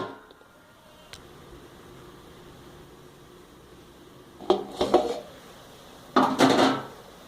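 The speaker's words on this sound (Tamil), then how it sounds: "இப்போ நம்ம ஒரு தட்டை போட்டு மூடி வச்சுருவோம்." A plate set over a pot of mango curry (mambazha kara kuzhambu) on the stove gives two short clattering bursts of ceramic against metal, close and fairly loud, after a quiet stretch.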